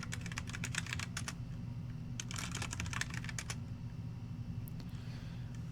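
Computer keyboard typing at a desk, bursts of quick light key clicks in irregular clusters with pauses between, close and fairly quiet over a steady low hum, no talking.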